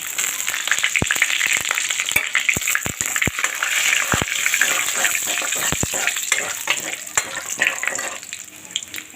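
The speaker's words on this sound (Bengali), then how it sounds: "দিয়ে দেব শুকনো লঙ্কা ফোড়ন আর দেবো গোটা গরম মশলা এলাচ আর দারচিনি তেজপাতা" Dry red chillies and whole garam masala (cardamom, cinnamon, bay leaf) with cumin seeds frying in hot ghee for an aloo-phulkopi curry: a loud steady sizzle with several sharp crackling pops, no voices.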